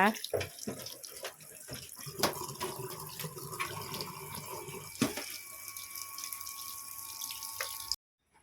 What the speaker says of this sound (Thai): ด้านนี้เราก็ล้างน้ำนะคะ